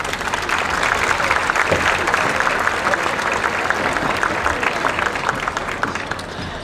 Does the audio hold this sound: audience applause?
yes